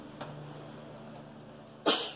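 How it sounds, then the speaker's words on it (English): A single sharp sneeze bursts out near the end of a quiet indoor morning moment, close and fairly loud, after faint background sounds. "Everyone has their sneezes this morning."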